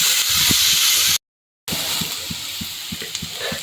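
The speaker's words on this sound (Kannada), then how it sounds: "ನೀರುಳ್ಳಿ ಒಂತೆ ಬಾರಿ ಸೋಕು ಫ್ರೈ ಆತುಂತುದೆ" Onions frying for egg bhurji give off a strong, even hiss and sizzle with soft regular stirring taps beneath it; the sound cuts out briefly partway through and then carries on.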